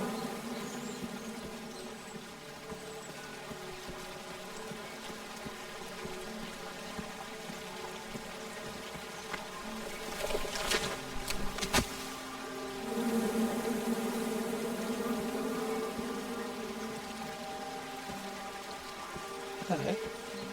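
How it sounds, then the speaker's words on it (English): Swarming bees in the adventure video game King's Quest, a steady droning buzz with a layered hum, swelling louder with a few sharp accents midway. "Come at me, bees!"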